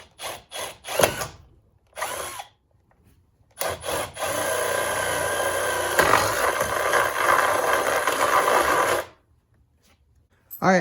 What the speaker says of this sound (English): We actually have to drill a small hole in the battery case here to accept the bolt right here